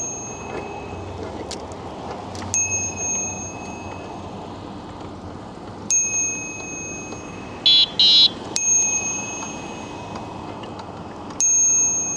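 A bicycle bell rings several times, with single bright dings spread out and a quick double ring in the middle, over steady outdoor road noise.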